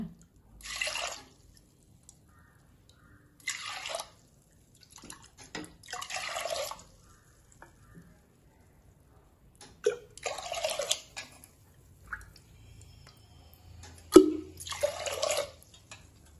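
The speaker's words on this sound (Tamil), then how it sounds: "ஒன்றரை கப்பு தோரம்பருப்புக்கு நல்லா ஏழு கப்பு தண்ணி ஊற்றுறேன்" Water splashes and pours in short bursts separated by quiet pauses, with faint drips and clinks nearby.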